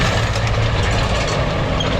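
A Kubota M7172 tractor pulling an Amazone drill, its engine giving a steady, loud, continuous drone with no talk over it.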